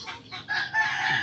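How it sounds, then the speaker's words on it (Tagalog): A rooster, a winning gamecock, crowing close by in a short, loud burst, with a brief clucking note before the crow. "punta na natin yung manok natin na nanalo ng linggo"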